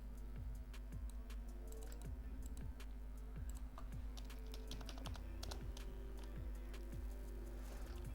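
Steady keystrokes clatter on a computer keyboard while HTML code is written, a continuous run of close, crisp clicks with no talking.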